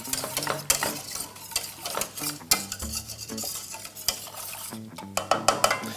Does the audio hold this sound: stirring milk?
yes